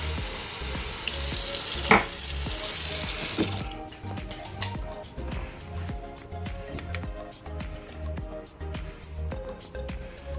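Tap water runs steadily at first, then gives way to clattering and splashing as the flow continues more unevenly.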